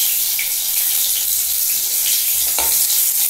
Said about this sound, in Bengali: দেখেছো আমি কিভাবে ভেজে নিচ্ছি, একটু লাল করে করে সব ভেজে নিলাম